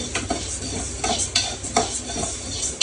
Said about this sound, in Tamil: நெக்ஸ்ட்டு வந்து உளுத்தப்பருப்பு போட்டிருக்கிறேன் வறுக்கிறதுக்கு.